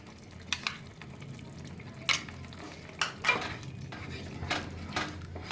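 Mustard-poppy gravy with sweet yogurt being stirred in a pan, with soft scraping and several sharp clinks of the spoon against the pan over a faint background, no voices.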